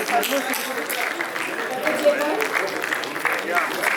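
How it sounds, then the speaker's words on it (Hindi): Applause from an audience at an agricultural science honors event in Uttar Pradesh, a steady dense patter of many hands sustained throughout with voices mixed in. "जोरदार तालियां हमारे सभी अनुभवों के लिए"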